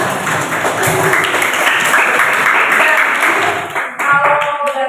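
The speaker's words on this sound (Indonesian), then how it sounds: "Nah, tepuk tangan dulu buat kita semua." A room full of people claps together for several seconds, dense and fairly loud, tapering off near the end.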